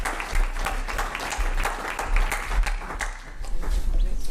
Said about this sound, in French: on les applaudit bien fort quand même.